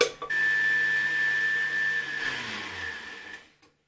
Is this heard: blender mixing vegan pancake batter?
yes